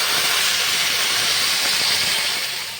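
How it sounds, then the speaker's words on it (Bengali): A loud, steady hiss of steam rushing up as water hits a hot pan of winter vegetables for khichuri, holding strong and easing slightly toward the end. "এবার আমি জল দিয়ে দেবো। সবজিগুলো ডুবে যাবে এরকম জল দেবো।"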